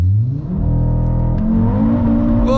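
An Audi RS3 launches at full throttle in sport mode with traction control off, its engine roaring loud and close with a rising, harmonic-rich tone as revs climb steadily.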